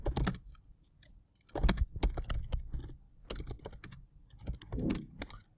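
Keys clacking on a computer keyboard in short bursts of quick, uneven strokes with brief pauses between, close and fairly quiet, with no voices.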